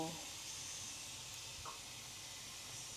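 Steady broadband hiss of steam escaping a just-opened pressure cooker in a home kitchen, continuous and fairly quiet throughout.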